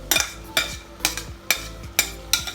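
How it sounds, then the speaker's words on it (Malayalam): Sautéed onions go into a pot of Thalassery chicken biryani masala and get stirred in, giving a soft sizzle with a few spoon scrapes and stirring strokes at a steady pace, close by and moderately loud. "നമ്മൾ വഴറ്റി വെച്ച ഉള്ളി ഇതിലേക്ക് അങ്ങ് ചേർക്കുന്നു"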